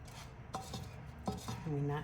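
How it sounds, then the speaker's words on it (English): Diced onions stirred into a paella pan with shrimp and sausage, a few quiet scrapes and light clinks of a utensil against the pan, close and soft, with no voices. "we're gonna go ahead and add our diced onions and stir that in"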